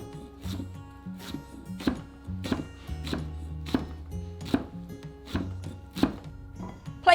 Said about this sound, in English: Finely chop a large bunch, about 30 grams or 1/4 of a cup, of fresh mint leaves, discarding the stalks.